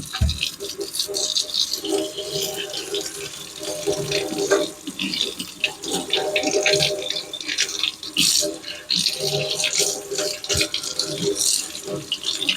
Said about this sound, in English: But just rinse them off.